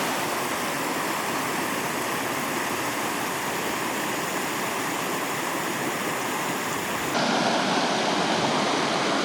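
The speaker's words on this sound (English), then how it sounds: "made it over to the river crossing" Water rushes steadily at a river crossing along Lytle Creek, a loud, continuous broadband roar close by with no pauses, its tone brightening slightly near the end.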